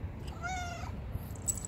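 A single drawn-out meow from a cat that seems to be outdoors, close but fairly soft over a low rumbling background, followed by a few faint clicks.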